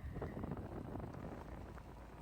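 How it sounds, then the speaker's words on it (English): Steady rushing wind with a dense patter of rain drumming on a van roof in Glen Etive, Scotland, continuous throughout with no voices. "apart from the rain and wind on the van roof"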